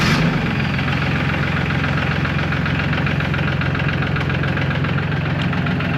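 Solis S26 tractor engine cranking and catching, then idling with a loud, close, steady knocking rumble that holds for several seconds, no talk.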